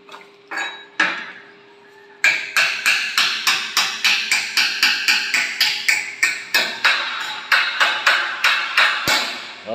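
A hammer strikes a metal stair railing in a rapid, regular series of ringing, clanking blows, loud and close, after a few slower opening hits, with no speech.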